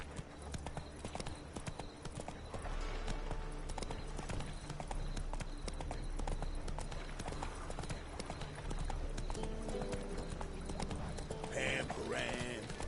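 A horse gallops in The Witcher 3, its hooves drumming in a fast, steady clip-clop under continuous game music, with some voices near the end.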